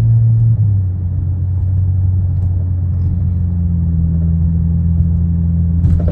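A BMW E92 335 engine runs rough with a steady, loud low rumble and a slight shift in pitch partway through, heard close up with no talking.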